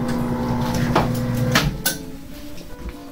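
Heat press closing for a pre-press on a print-ready jacket, giving a few distinct mechanical thumps and a clack over a steady low hum, close and fairly loud.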